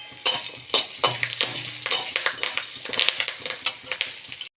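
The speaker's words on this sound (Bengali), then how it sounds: "এবারে এর মধ্যে আমি কারি পাতা দিয়ে দেব।" Curry leaves hit hot oil with lightly fried garlic and ginger, popping and sizzling loudly while a utensil scrapes and clinks against the pan in quick irregular strokes, close by.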